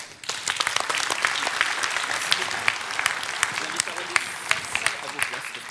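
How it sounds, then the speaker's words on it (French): A crowd applauds steadily, many hands clapping together in a dense, sustained burst that continues for several seconds. "Applaudissements"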